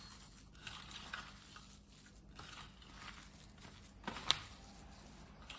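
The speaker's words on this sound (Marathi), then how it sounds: "आता हे सर्व परत मिक्स करून घ्यायचं" A mixture of bread and corn for snack balls is stirred and mashed in a bowl, giving soft, faint scraping and squishing sounds with one sharper knock near the end.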